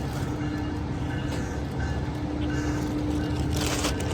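Amtrak Capital Corridor train with an SC-44 Charger locomotive pulling out of the Oakland Coliseum station, a steady low rumble with a sustained engine tone and faint rail noise, no talking.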